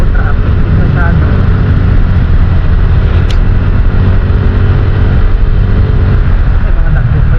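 Heavy road traffic during a riders' charity event, a dense, continuous roar of engines and passing vehicles close by, with a short sharp sound in the middle.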